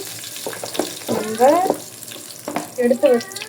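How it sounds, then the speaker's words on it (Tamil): Mustard seeds and curry leaves crackle and sizzle in hot oil in a pan in short bursts, with a voice briefly heard under the frying. "எண்ணெய் ஊற்றி கடுகு போட்டு கொஞ்சம் கருவேப்பிலை போட்டு"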